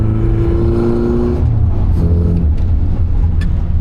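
A car engine fed by SU carburettors gives a steady, close induction roar, a deep droning growl that swells slightly partway through, heard alone without voices.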